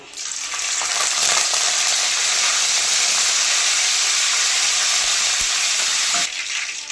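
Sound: mustard seeds, cumin and curry leaves sizzling in hot oil

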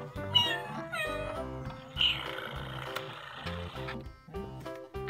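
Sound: toy cat meowing

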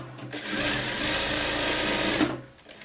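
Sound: sewing machine stitching a side seam

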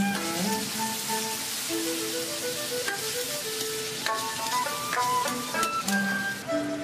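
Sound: stir-frying soaked spices for hotpot in a wok

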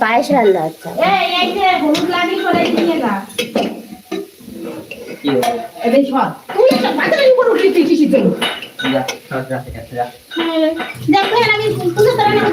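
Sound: pots and utensils while cooking payesh (rice pudding)

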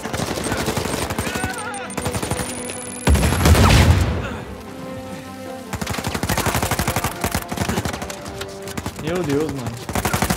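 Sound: gunfire in the video game Uncharted 4

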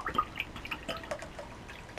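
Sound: water being poured into a glass

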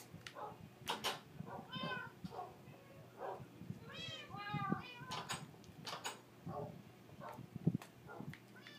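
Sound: cats meowing and dogs in video game Minecraft

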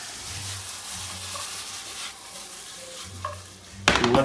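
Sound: onions, carrots and celery cooking in browning butter

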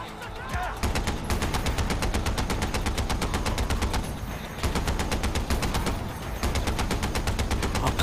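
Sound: gunfire in the video game Far Cry 4

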